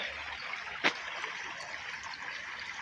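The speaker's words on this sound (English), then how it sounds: "there's the creek right here" Creek water in West Kelowna in winter, West Bank Creek or Smith Creek, a faint steady trickling rush heard from a distance, with one brief sharp knock partway through.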